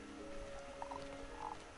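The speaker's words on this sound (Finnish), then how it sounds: "On tämmösiä sammakoita." Frogs croak in Hogwarts Legacy, a few short faint croaks in quiet succession over a soft steady ambient hum.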